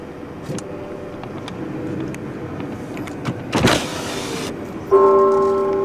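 Church bells ring outside Cherry Hall in Bowling Green, Kentucky. A clear, sustained bell tone enters late, over faint outdoor traffic and passing-car ambience.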